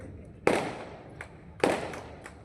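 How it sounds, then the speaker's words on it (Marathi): Two sharp bangs a second apart, each with a trailing echo, like firecrackers going off at a moderate distance during a public welcome ceremony in Sangola, Maharashtra. "आल्यापासून जे फटाके वाजतात ते अजून बंद झाले नाही"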